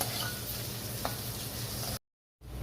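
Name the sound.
paneer slowly frying in ghee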